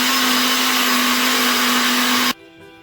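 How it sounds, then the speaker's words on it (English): A blender whirs loudly and steadily as it purees carrots with water, a strong continuous motor whine that cuts off abruptly near the end, leaving faint room noise. "put these in my blender"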